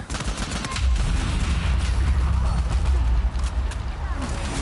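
Rapid gunfire from enemies in the Uncharted video game, a dense sustained barrage of shots loud and continuous throughout.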